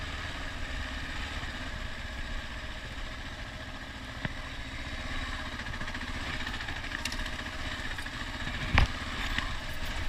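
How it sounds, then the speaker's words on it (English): Motorcycles cruising along a four-wheeler trail in Alaska, a steady mid-pitched engine drone holding throughout with a faint clatter, one brief louder knock near the end. "we were able to hop on that with the motorcycles and cruise a long ways down"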